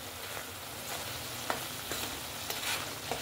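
Prawn masala sizzles in a pan as kasuri methi is stirred through it: a steady frying hiss broken by several sharp scrapes of a spoon against the pan.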